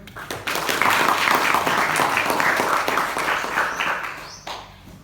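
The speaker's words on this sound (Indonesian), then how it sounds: "Mungkin boleh beri aplaus lagi sekali teman-teman." A student audience at a campus documentary discussion applauds after a talk, a dense burst of clapping that swells quickly, holds for a few seconds and then tapers off.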